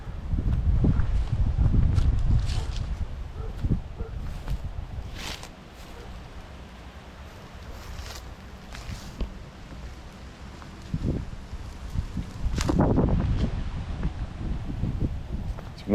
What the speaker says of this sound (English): It's windy out here too now.